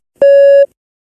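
A single clean electronic test-prompt beep in a spoken English exam practice, one steady tone lasting under half a second, loud and alone.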